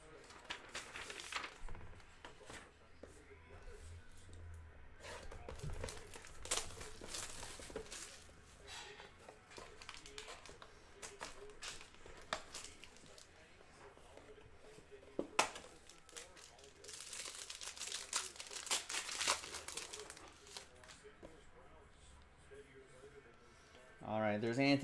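Panini Contenders Optic basketball card packs are torn open, with intermittent close crinkling, tearing and rustling of foil wrappers and cards, mixed with bursts of handling, while someone talks throughout.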